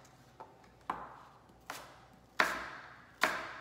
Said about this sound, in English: And then I just make my apple slices.